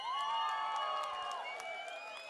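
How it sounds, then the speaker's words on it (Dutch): Crowd at an outdoor stage show cheers and applauds a rap act, a dense, steady wash of clapping and whoops with shouted voices rising above it, holding strong before easing slightly toward the end. "Hier binnen, en dat is een hartelijk applaus"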